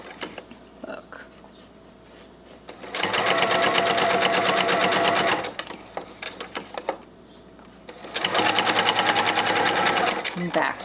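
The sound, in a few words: sewing machine stitching paper-pieced quilt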